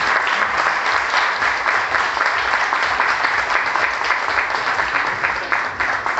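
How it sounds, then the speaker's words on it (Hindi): Audience at a Maharashtra real estate guidance event gives a loud, sustained round of applause to welcome the association's chairman, dense continuous clapping throughout with no talk over it. "इनका जोरदार ताली से स्वागत किया जाए"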